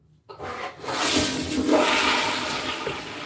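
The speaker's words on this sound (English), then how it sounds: "Flushed the toilet." A household toilet flushes in a bathroom, starting with a sharp handle clunk, then a loud rushing surge of water that holds steady and begins to settle, close by with no voices.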